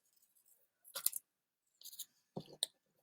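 Scissors snip paper in half along a drawn line for a paper trolley craft, a few short, quiet, separate cuts against near silence.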